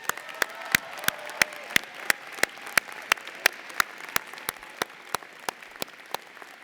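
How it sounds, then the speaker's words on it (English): Clapping at a university college of medicine spring commencement ceremony in 2017, with sharp, evenly spaced claps repeating about every third of a second over a soft hall background, fairly close and moderate in level. "Please join me in applauding for these recipients."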